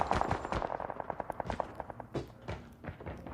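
Holger light machine gun firing in a video game: a fast, steady burst of evenly spaced automatic shots, loud and close, followed by a couple of heavier blasts and echoing game noise.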